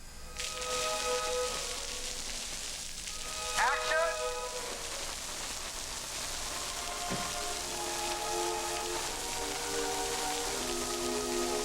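Artificial rain from a rain machine pours on the film set of the 1998 Psycho remake: a dense, steady hiss of falling water throughout, while a voice calls out over it and sharp clacks punctuate the downpour.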